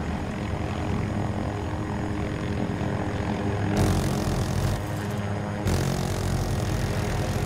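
An attack helicopter in Battlefield 2042 gives off a loud, steady roar of engine and rotor throughout, with abrupt shifts in the mix partway through and no talking.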